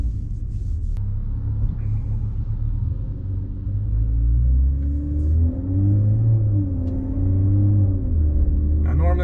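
A Toyota Supra fitted with an HKS Hi-Power exhaust cruises with a steady low engine drone and rumble heard from inside the car, rising and falling slightly with throttle.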